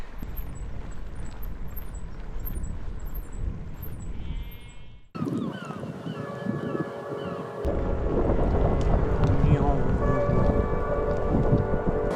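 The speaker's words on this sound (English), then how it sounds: "the crazy weather has started. 50 to 60 mile an hour winds and a lot of rain" Strong gusting wind and heavy rain from a storm on the Scottish coast, roaring loud and steady close to the microphone, briefly dropping before building again into a dense, rushing downpour with no voices.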